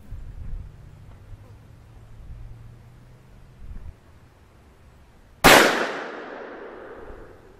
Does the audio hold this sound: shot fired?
yes